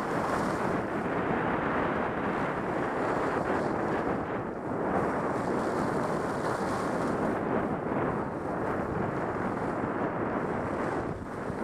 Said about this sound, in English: And the wind is blowing, but the snow is down.